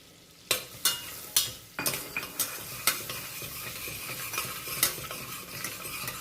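Garlic fries in a pan with a continuous sizzle while a metal spoon stirs it, with several sharp scraping clanks at the start and softer taps after.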